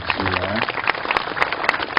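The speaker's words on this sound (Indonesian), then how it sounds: "Tepuk tangan teman-teman semua." Audience clapping at an Islamic religious gathering in Kauman, Yogyakarta, a brief burst of scattered hand claps with a voice speaking over it at the start.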